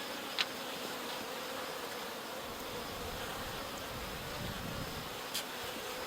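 A steady, faint swarm of honeybees hums continuously around queen bee cages, a soft insect drone without talk.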